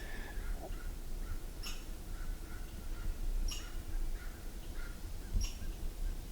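Crow calls in an outdoor pasture by trees, several harsh caws spaced a second or two apart over steady background noise, with faint chirps from other birds in between.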